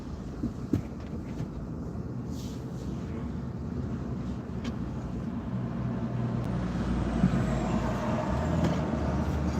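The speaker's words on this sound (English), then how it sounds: "Chicken feed truck." A chicken feed truck rumbles past on a rural road, a steady low engine and tyre roar building gradually and staying loud through the pass, with no talking.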